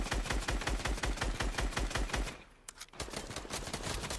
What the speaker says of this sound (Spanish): te está disparando el otro y me apuntas a mí